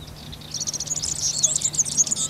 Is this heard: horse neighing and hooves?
no